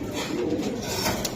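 A khaki silver Giribaz pigeon coos in a steady low burble, close and fairly loud, with no voices over it.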